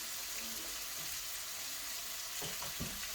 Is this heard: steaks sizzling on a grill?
yes